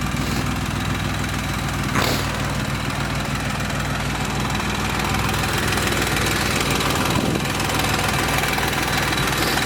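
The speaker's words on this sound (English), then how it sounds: "I love the sound of the Dauntless V6." A 1968 Jeep Commando's Dauntless V6 runs steadily at idle, a loud, close, continuous low rumble with a faint rhythmic lope and no voices over it.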